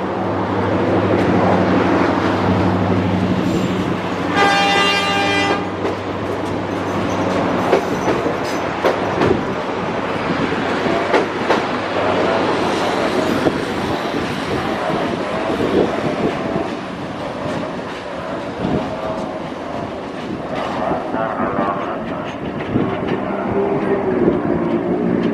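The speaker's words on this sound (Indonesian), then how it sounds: "Kereta api Serayu masuk jalur 2 stasiun Cipendei." The Serayu passenger train rumbles steadily nearby entering track 2 at Cipendeuy station, with rolling wheel clatter, and a loud horn blast sounds near the start over the continuous rail noise.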